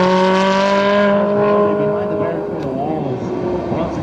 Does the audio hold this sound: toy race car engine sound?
yes